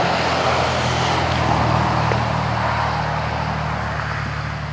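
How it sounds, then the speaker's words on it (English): A car driving past on a street, a steady low engine rumble with broadband road noise holding fairly loud and close throughout, easing slightly toward the end, with no talking. "I'm gonna wait for the car to pass"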